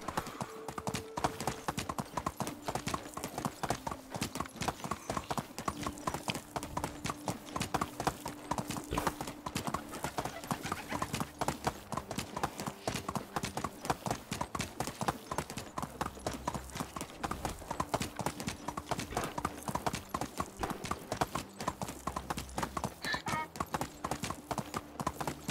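Donkey hooves clip-clop steadily in a video game, a continuous rhythmic stream of hoofbeats over a background music loop, with an occasional whinny-like call.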